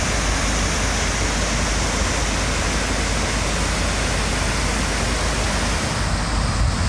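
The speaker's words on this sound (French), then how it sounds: "encore des chutes avec un barrage à Thunder Bay." Steady, dense roar of a waterfall pouring over a dam in Thunder Bay, heard close and loud as an unbroken rushing wash with no voices.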